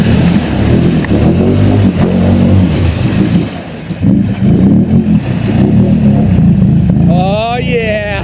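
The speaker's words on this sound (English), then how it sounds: "Let me hear that exhaust." A loud aftermarket RJWC exhaust revs close up in repeated throaty bursts with a deep, steady drone between them, while people talk over the engine.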